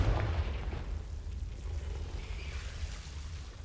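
A Confringo blasting curse going off in Hogwarts Legacy, a deep booming explosion that bursts at the start and then rumbles and fades away, fairly quiet overall.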